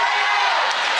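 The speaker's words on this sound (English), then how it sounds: "Wow, that crowd is loud." Loud hockey arena crowd at a college game against Liberty, a dense continuous roar of cheering filling the space for a second, with no clear individual voices standing out.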